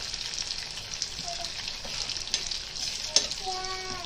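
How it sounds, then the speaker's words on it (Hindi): Steady crackling sizzle of mustard seeds, cumin and chillies frying in hot oil for a dal tadka, with small pops and spits, fairly quiet and close, without talk. "राई लिए, जीरा लिए, मिर्ची लिए, और चिली फिश लिए।"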